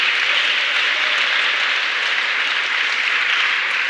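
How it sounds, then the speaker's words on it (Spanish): Sustained, even applause from a congregation at a Spanish-language church service, a steady wash of many hands clapping with no talk over it. "Un aplauso para nuestro Dios."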